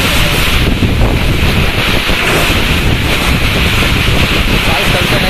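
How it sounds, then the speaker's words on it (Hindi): A heavy rainstorm with strong wind blowing dust through a gallery, a loud, unbroken roar of rain and gusting wind buffeting the microphone throughout. "बहुत ज़्यादा बारिश हो रही है"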